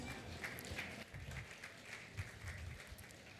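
Faint, distant applause from an audience at a sustainable polymer conference, a steady patter of clapping with low rumbles and a soft voice mixed in.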